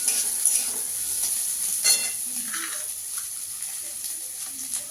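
Onion, garlic and ginger fry in a spoonful of oil. A soft, steady sizzle carries a few faint stirring scrapes, with a constant high hiss in the background.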